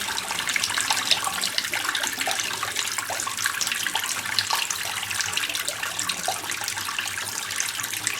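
Water runs from a foot spa basin with pedicure kit and drains away, a steady rushing, splashing stream close by and fairly loud, continuing evenly throughout without any talking.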